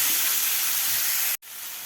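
Vegetables sauté in oil with salt, giving a steady, bright sizzling hiss that cuts out briefly near the end and then resumes slightly softer, with no talk.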